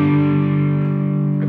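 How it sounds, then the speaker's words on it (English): A sustained electric guitar chord passes through a reverb pedal, ringing loud and close with smooth, even decay over a second and a half, alone with no voices. "Little reverb."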